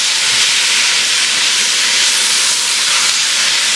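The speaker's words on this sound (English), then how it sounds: "Now you want to let those peppers saute until they are getting pretty tender." Loud, steady hissing sizzle of peppers sautéing in hot oil, continuous and close with no talking.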